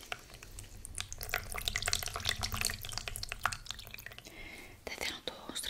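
A wet cloth is wrung out by hand, giving close trickles, drips and squelches of water, with soft whispering over the top.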